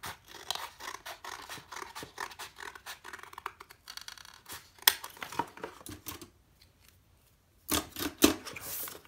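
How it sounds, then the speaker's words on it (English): Scissors cutting across cardboard boxes: close, steady rasping snips in a quick rhythm that pause briefly before a final few cuts. "just gonna take my scissors and cut right across on all 5 of my boxes."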